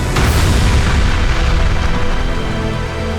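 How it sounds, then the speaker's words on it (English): Massive explosion as the battleship Hood is ripped in half, a continuous loud, deep roaring boom that fills the whole stretch without letting up. "suddenly, a spectacular firestorm bursts through the deck. There's an instant reduction in the structural integrity of the hull, and the ship is ripped in half"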